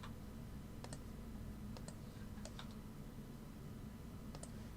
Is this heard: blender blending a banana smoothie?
no